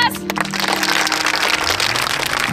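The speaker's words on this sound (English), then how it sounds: "All right, let's give them a round of applause." Applause rises at a philanthropy house reveal event, a loud, dense wash of clapping and cheering that fills the whole moment with some crackling noise near the start.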